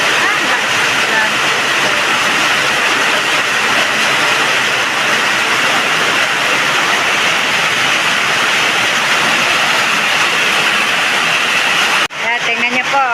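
Heavy rain pours down outdoors, a loud, dense, continuous hiss and drumming that holds steady for about twelve seconds before cutting off abruptly, with a voice briefly audible after it.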